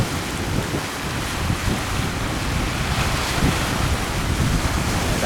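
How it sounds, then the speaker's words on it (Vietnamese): Sea waves surge and slap around a boat running toward shore under a darkening pre-storm sky, a loud, rolling roar of surf with gusty wind buffeting the microphone throughout. "sóng này tầm mét thôi các bạn, sóng này không cao lắm, 1 mét"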